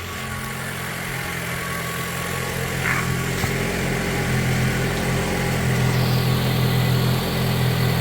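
A 2024 Toyota Corolla LE engine idles steadily up close, an even low hum with a faint mechanical whir, continuous throughout with a slight rise in tone toward the end and no talking.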